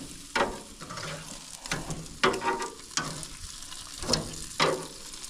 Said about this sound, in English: Time to check the steaks again and turn them.